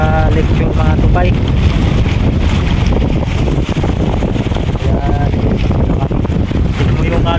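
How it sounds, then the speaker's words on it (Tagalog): Strong wind buffets the microphone in a loud, constant roar over the churning sea, with a voice speaking faintly beneath, aboard a small fishing boat. "Lakas na ng hangin dito, sobrang lakas ng hangin"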